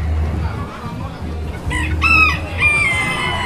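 Rare chickens imported from the US and Belgium, a rooster giving a loud nearby crow among clucking fowl, over low rumbling background noise.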